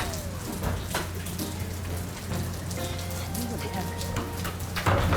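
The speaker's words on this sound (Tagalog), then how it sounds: "Malakas yung ulan eh." Heavy rain patters steadily on surfaces, a dense hiss with scattered drop impacts and a low hum underneath, while voices speak faintly in the background.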